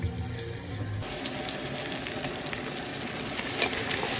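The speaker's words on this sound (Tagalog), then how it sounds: "Ginigisa po natin kalabasa" Squash sautéing in a pan for a home-cooked vegetable dinner: after a brief clunk at the start, a close, steady hissing sizzle continues, with small pops throughout.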